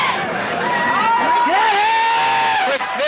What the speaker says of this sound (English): As you hear the Swampscott cheerleaders in the crowd cheering on the Big Blue